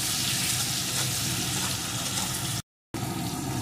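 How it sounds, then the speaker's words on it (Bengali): Chili powder, turmeric and salt frying in a pan with other spices, a dense continuous hiss and sizzle, close and steady, briefly cut to silence before resuming. "এখন এই সমস্ত কিছুকে সুন্দর করে আমি কষিয়ে নেব।"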